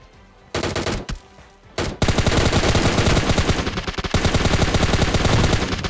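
Automatic gunfire in a shooter video game: rapid, loud bursts that stutter at first, then run into sustained, dense firing, heard alone with no talk.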